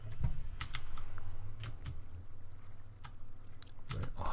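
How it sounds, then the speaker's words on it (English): A loud, non-clicky computer keyboard is struck heavily in uneven bursts, sharp close keystrokes and a few deeper thuds ringing over a steady low background hum. "This thing is the noisiest keyboard I've ever seen."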